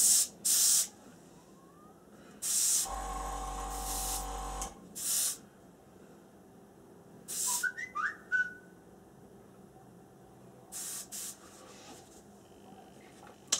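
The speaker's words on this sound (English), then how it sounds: "I'm just going to put a little drop into my airbrush." An airbrush loaded with a drop of Finishers Auto Gloss gives several short hissing bursts of spray, close and fairly quiet, separated by pauses, with one longer burst partway through.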